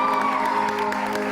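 An audience claps steadily for the singer Shabi and the Hazrati band on an entertainment show, a dense, even spread of hand-claps with no breaks.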